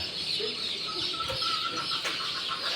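Chicks peeping during debeaking on a poultry farm, a continuous dense chorus of high chirps, close and moderately loud, with no talk.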